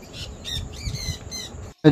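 A sun conure lets out a series of shrill, repeated squawks close up, followed by a brief pause and a louder burst.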